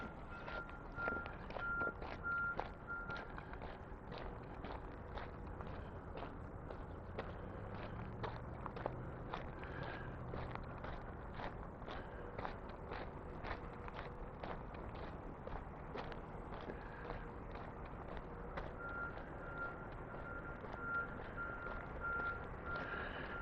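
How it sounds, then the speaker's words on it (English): Vehicles backing up give off regular reversing beeps in a steady repeating pattern, heard at a moderate distance over outdoor ambience and nearby walking footsteps. "the beep, beep, beep of vehicles backing up"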